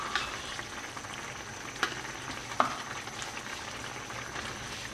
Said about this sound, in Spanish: Y revuelvo.